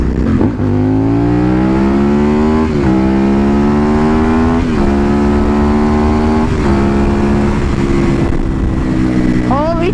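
An Aprilia Tuono motorcycle accelerates hard while ridden, its engine note climbing steadily through several gears with brief dips at each upshift, loud and close, with a rider's voice over the engine.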